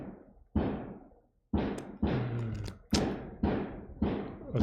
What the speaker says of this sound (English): I'm trying to focus and they're fireworks. Very loud fireworks.